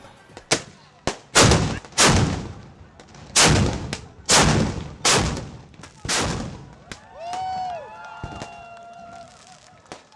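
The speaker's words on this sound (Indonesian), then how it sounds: "dentuman meriam karbit kembali bergema di kota Katulistiwa, Pontianak" Carbide cannons (meriam karbit) boom repeatedly on Eid night in Pontianak, a string of loud, heavy blasts in uneven rhythm over about eight seconds, followed by quieter crowd noise and whistling tones at the end.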